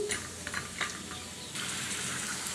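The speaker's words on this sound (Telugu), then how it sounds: "స్టవ్ మీద పాన్ పెట్టుకుని ఆయిల్ వేసుకోవాలి దీనిలో ఒక గుప్పిడి పల్లీలు వేసుకోవాలి పల్లీలను ఫ్రై చేసుకోవాలి" Peanuts frying in oil in a pan on a stove give a steady, close sizzle with soft crackles and light stirring scrapes, heard alone without talk.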